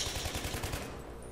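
Rapid automatic AK-971 rifle fire in the Battlefield 3 video game, a quick burst of about seven close, punchy shots in even rhythm that stops partway, leaving a fading tail.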